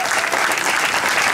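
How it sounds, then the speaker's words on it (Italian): An audience at a holiday resort show applauds Miss Italia, a brief, loud burst of continuous crowd clapping with no break. "volevamo fare un applauso a Miss Italia"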